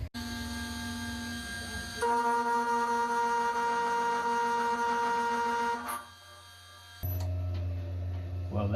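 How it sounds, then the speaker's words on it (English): A 6040 CNC router thread milling a steel fixture plate: a steady whining machining drone with tonal spindle harmonics, rising louder mid-cut, dropping briefly, then resuming with a lower rumble. "try to thread mill it and see how the pitch will look like"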